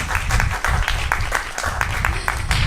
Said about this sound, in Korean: 좋은 강연 해주신 권지현 대표님께 다시 한번 큰 박수 부탁드립니다.